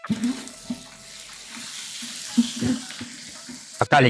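Green chillies tossed into hot oil in a pan, a steady close sizzle with soft stirring bumps throughout, in a village kitchen preparing mutton kudal kari.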